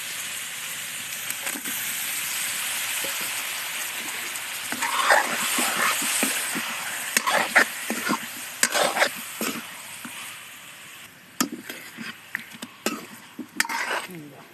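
Fish cooking in a pan with fried chili paste, a steady close sizzle with scattered scraping and clinking of a spoon stirring, no voices.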